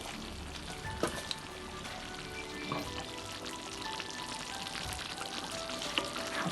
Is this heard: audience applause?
no